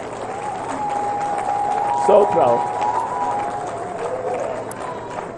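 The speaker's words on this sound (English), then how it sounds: "Can we clap hands for Samuel?" A crowd at a football stadium inauguration in Cameroon applauds and cheers for Samuel, a broad, steady wash of clapping running beneath a man's amplified speech.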